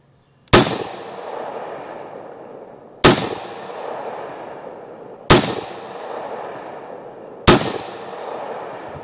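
Four sharp, loud rifle reports from an AR-15 firing .223 Frontier 55 grain hollow point match rounds at a 100-yard range, evenly spaced about two seconds apart, each followed by a decaying echo, with no talking.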